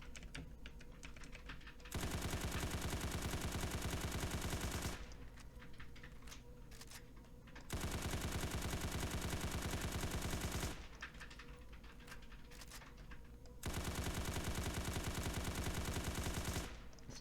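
A Scar L rifle fires in a video game in three long sustained bursts of rapid automatic fire, each lasting about three seconds. Quieter stretches between the bursts are filled with clicking and shuffling.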